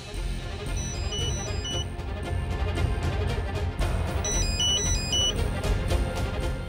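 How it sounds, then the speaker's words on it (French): A mobile phone ringtone plays in short repeated high melodic bursts, heard twice over a busy background of music or ambience, with no speech. "C'est mon téléphone qui sonne."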